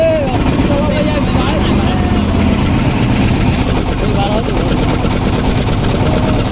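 A trawler boat's engine runs steadily on a river near a floating guava market, a constant low mechanical drone with water wash, loud and unbroken throughout.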